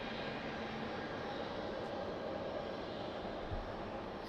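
Air Canada flight 812 airliner on final approach to land on runway 20 at Lisbon Airport in rain and wind, a steady broadband engine roar at a distance, constant and unbroken with no one talking.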